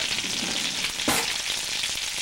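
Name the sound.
Swedish meatballs frying in a pan on low heat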